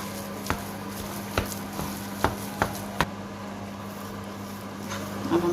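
Spoon knocking against a cooking pot while potatoes and meat for resha kabab are stirred, several sharp taps at irregular intervals over a low steady hum of the kitchen, close by, with no talking.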